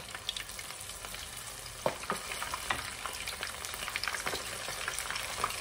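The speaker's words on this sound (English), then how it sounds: "only thing we're going to do is take a piece and put it in the grease" Breaded liver crackles and sizzles steadily in hot grease, a dense close-up frying hiss with scattered sharper pops.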